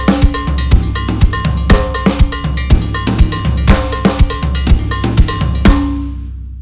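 Drums play a funky Mozambique groove, with a bright cowbell ringing on a steady syncopated pattern over kick, snare and flams, loud and close until the final hits ring out.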